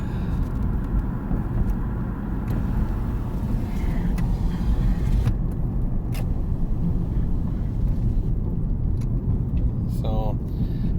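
A 2009 Chevy Equinox coasts downhill, filling the cabin with a steady low road rumble and tire noise, while a brief click or jingle comes near the end.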